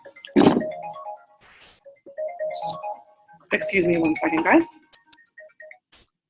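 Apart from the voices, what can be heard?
phone ringtone of an incoming call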